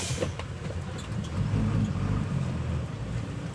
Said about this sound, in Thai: เดี๋ยวกลับรถก่อน